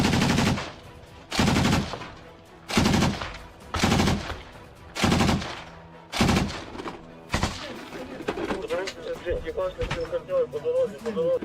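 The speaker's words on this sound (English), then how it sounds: "We now see him grabbing the machine gun again. Firing the machine gun at the Russians, trying to keep them suppressed." Bursts of machine-gun fire from an M249 in a combat firefight, six loud, evenly spaced bursts followed by rapid scattered shots, with voices speaking over the gunfire.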